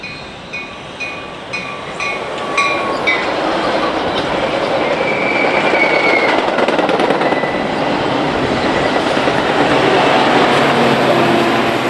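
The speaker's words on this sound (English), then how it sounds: "Inbound train 1284 is passing the 1265 at just another racetrack train meet." Two trains pass each other on a busy BNSF line. Short horn-like tones sound at the start, then the roar of rolling wheels swells and stays loud and close to the end.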